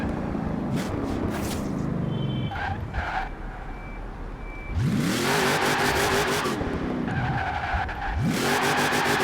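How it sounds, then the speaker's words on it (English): A Chevrolet Colorado ZR2 four-wheel-drive truck launching in Forza Horizon 4, engine revving hard with sustained tire squeal and wheel spin, loud, with pitch rising through repeated gear changes. "I'm just gonna get a solid standard launch in. Lots and lots of wheel spin."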